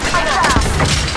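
A bomb going off in the mobile battle-royale game Apex Legends Mobile: a loud, dense burst of blast and crackling gunfire that fills the brief moment, with a voice talking over it.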